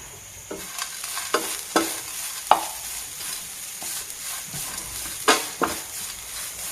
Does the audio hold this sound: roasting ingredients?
yes